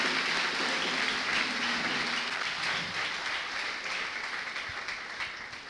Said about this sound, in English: Everybody give a clap of it to Jesus Christ